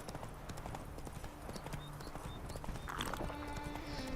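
Horse hooves clip-clop at a steady trotting rhythm in The Witcher 3 video game, moderately near, with faint game ambience around them.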